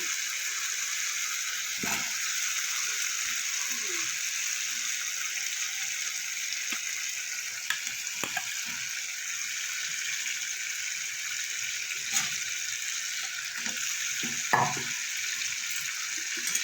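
Fried potatoes sautéed in raw papaya pakora masala, a soft steady frying hiss with sparse spatula scrapes and knocks, fairly quiet and with no one speaking.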